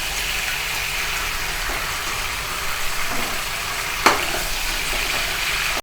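Mushrooms frying in hot oil in a pan, a loud continuous hiss and sizzle close up with a single sharp clink near the end before it cuts off.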